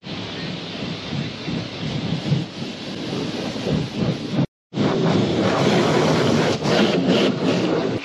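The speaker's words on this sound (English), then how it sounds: "Should probably rinse it off really quick." Steady broadband hiss and spray of a water hose rinsing off a used vehicle outdoors, loud and continuous with one brief cutoff midway, no talking.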